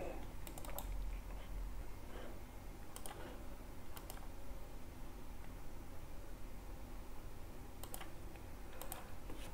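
Quiet clicking of keys on a computer keyboard, scattered single taps and brief clusters of keystrokes over a low steady background hiss.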